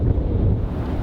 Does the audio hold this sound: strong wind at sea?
yes